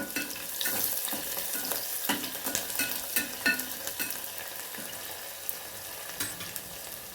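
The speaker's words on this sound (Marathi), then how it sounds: "मी कांदा घेतला होता उभा कट करून बघा तो ह्याच्यात टाकून देऊया आपण जरा छान हलवूया" Vertically sliced onion frying in a pan and being stirred, a constant crackling sizzle punctuated by rhythmic spatula scrapes and knocks, close and moderately loud with no talking.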